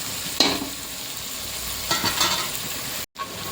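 Onions sauté in a pan for tomato rice, giving a soft continuous frying hiss with two brief bursts of stirring and a sudden short dropout near the end.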